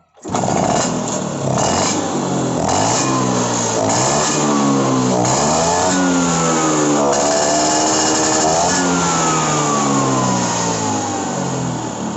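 A motorcycle engine starts and runs through a carburetor test, idling loud and close with repeated revs rising and falling over steady mechanical noise.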